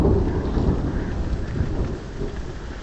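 A heavy thunderstorm gives a deep, sustained rumble of thunder over dense rain hiss, loud at first and gradually fading slightly, with no voices.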